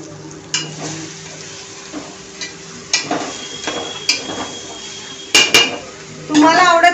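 A spoon stirs ground fried bombil (Bombay duck) into fried vegetables in a pan while making vangi bhat. It gives intermittent scraping and clinking against the metal, with a soft sizzle underneath and a sharper rattle near the end.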